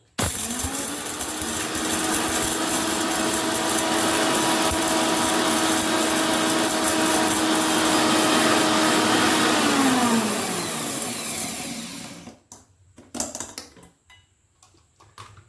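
A mixer grinder whirs loud and steady, grinding roasted spices and poppy seeds for a karamani sundal, its motor whine holding for about twelve seconds before cutting off, followed by a few faint knocks and clatters.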